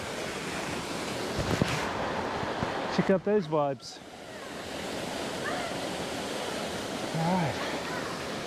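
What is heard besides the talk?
waterfall water rushing in Osaka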